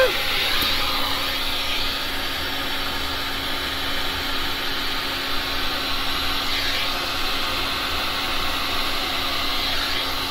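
An air blower or heat gun blows steadily across colored resin during resin painting, a constant loud whooshing hum lasting throughout with a faint tonal whine.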